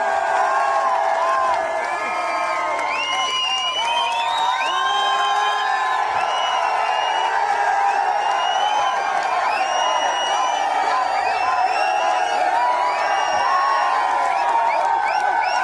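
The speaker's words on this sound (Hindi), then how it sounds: "जोरदार तालियां, जोरदार हल्ले के लिए सर" An audience at a motivational seminar for achievers in Jaisalmer roars with sustained cheering, whistles and whoops, a dense wall of crowd noise with scattered clapping that stays loud throughout.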